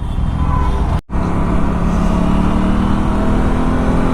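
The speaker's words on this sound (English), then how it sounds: "I let go of the throttle and I accelerate, there is no hesitation from the engine" An Aprilia RS 457 motorcycle engine drones loudly and steadily as the bike accelerates on a rainy road, with a brief dropout near the start before the strong, continuous engine and wind roar resumes.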